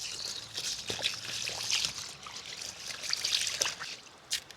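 Water poured and trickling while rice is washed in a pot at a riverside outdoor kitchen, a steady close splashing with small sloshes and a few louder spatters, no talk.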